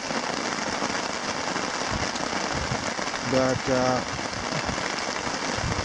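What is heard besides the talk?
heavy rain falling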